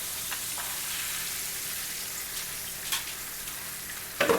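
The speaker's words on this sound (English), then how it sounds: "I'm gonna put a few more in the skillet here. Nice juicy thick pork chops." Thick center-cut pork chops with a little fat sizzle in a skillet, a steady close hiss of frying with faint pops and a louder spatter right at the end, no talking.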